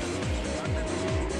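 Lexus LFA, a 500-car limited-production Japanese supercar, racing at the Nürburgring 24 Hours in Gran Turismo 5, its high-revving engine wailing continuously, with rising and falling pitch sweeps from gear changes and other cars under a commentator's voice.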